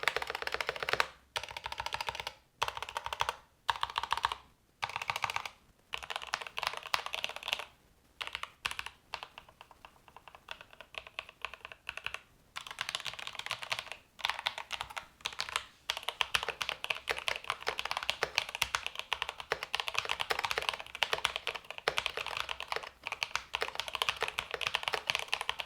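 Typing on a Corsair K70 Core gaming keyboard. Close, crisp keystrokes clatter in quick, irregular runs, at first broken by short pauses, then continuing as steady dense typing with no speech.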